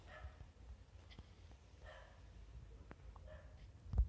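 Dog barking inside a Minecraft-style game world, a few faint, scattered yips and barks at a distance over a low background rumble, with no one speaking.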